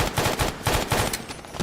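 Shots from the Big Boomer shotgun in Fallout D.U.S.T. boom in a fast, punchy string of about eight blasts, loud and close, with no talk over them.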